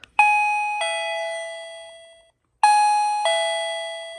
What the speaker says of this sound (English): So it looks like this doorbell and the button works